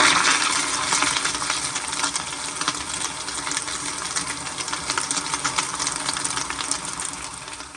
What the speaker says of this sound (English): here is a flush.